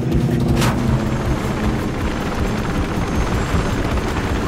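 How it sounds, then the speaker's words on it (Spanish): Drones in Mirror's Edge Catalyst give off a steady, loud rotor whir with a dense mechanical hum that holds without a break through the whole stretch. "Hay varios drones cerca."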